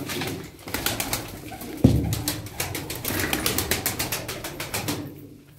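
Tumbler pigeons cooing close by in a loft, soft repeated coos mixed with clattering wing flaps and a sharp knock partway through, with no talking.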